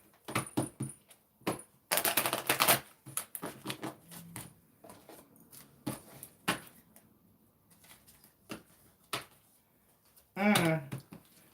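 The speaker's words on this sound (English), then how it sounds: "so I'm gonna give these one more shuffle." A deck of tarot cards is shuffled: quick papery riffling bursts and scattered soft clicks and taps, fairly faint and close, with quiet gaps between.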